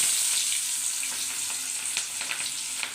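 Ground onion sizzles steadily in hot oil for an egg gravy, a close, continuous frying hiss with faint stirring crackles.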